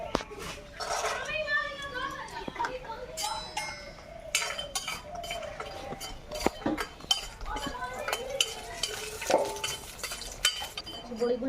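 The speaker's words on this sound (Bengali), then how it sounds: "বড়িগুলো একটু ভেজে নেব।" Metal utensils clink sharply and irregularly against a hot wok while lentil dumplings are fried in a little oil, heard under near-constant talking, with children's voices in the background.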